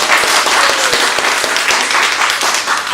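An audience applauds a bookshop owner who sells physical books, loud, close and continuous clapping from a crowd, with no voices over it.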